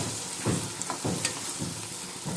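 Chilli powder, turmeric and salt are stirred into puliyogare paste in a pan, giving a steady soft sizzle with rhythmic scraping strokes of the spoon, close and moderately quiet.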